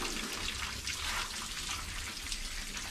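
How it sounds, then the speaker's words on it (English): Plants on a UK allotment are watered by hand, a close, steady spatter of water falling onto leaves and soil with slight surges in the flow and no talking. "Just watering the stuff underneath as well, that's good."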